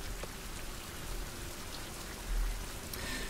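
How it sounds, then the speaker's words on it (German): Rain in a survival video game makes a steady, even hiss that fills the whole clip, with no voices over it. "Zack, da regnet's."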